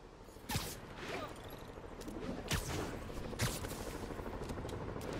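Scattered gunshots from escaped prisoners firing out of stolen vehicles in the Marvel's Spider-Man Remastered video game, a few sharp cracks spread across a steady rumbling city background, moderately distant and not very loud.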